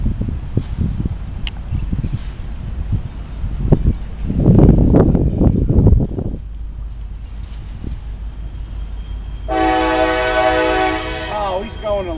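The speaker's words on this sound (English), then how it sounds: "There's a train coming." A CSX freight train rumbles past at a crossing. Near the end, a loud, sustained horn blast rings out over the rolling noise of the passing cars.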